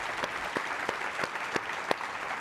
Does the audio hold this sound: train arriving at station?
no